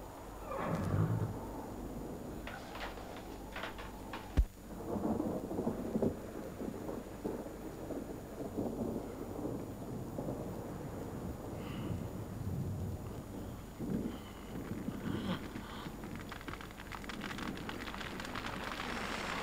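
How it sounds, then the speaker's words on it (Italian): Hail pours down steadily through a thunderstorm, a dense, continuous rattling wash with rumbling thunder underneath and one sharp crack near the start, sustained throughout with no voices. "la grandine che cade."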